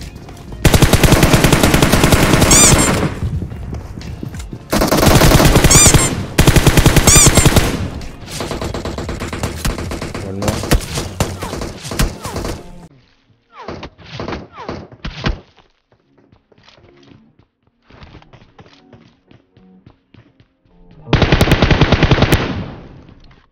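Automatic weapon fire in the battle-royale mobile game PUBG Mobile, with loud rapid bursts cutting in and out, then fainter distant single shots and short volleys, and a final loud burst near the end.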